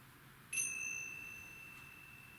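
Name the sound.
meditation bell ringing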